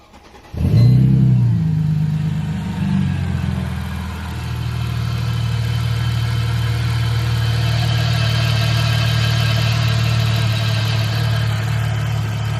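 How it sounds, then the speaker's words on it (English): A Mercedes SLK32 engine, freshly repaired with a belt wrap kit, cranks and fires with a sharp burst, then settles into a steady, loud, close-up idle that runs on evenly. "I'm going to go do the first fire up."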